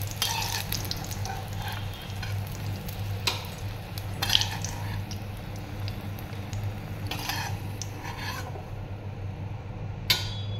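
Pointed gourd (potol) frying in hot oil, a steady close crackling sizzle with occasional spatula scrapes and stirs against the pan, no voices.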